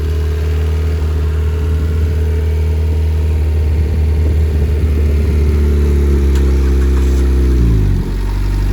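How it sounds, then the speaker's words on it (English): A car engine runs loudly and steadily at close range with a deep rumbling idle, the pitch dropping briefly near the end as the revs settle. "Now you can see that her car has started, right?"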